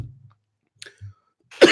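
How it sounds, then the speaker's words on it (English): A single sharp cough hits a close microphone at the end, loud and abrupt after near silence, preceded by a few faint throat noises. "I coughed right into the mic."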